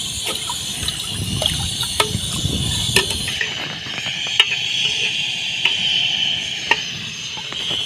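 Roughly two kilograms of water is poured onto minced meat in a pot on a village stove, giving a continuous gurgling, splashing stream with scattered clinks and drips throughout, and no talk.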